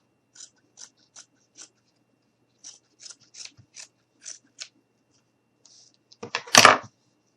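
Scissors snipping through a piece of yellow felt, a series of short separate crisp cuts spaced out at first, then a quicker louder burst of snips near the end, close and otherwise quiet.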